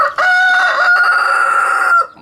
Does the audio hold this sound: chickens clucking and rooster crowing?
yes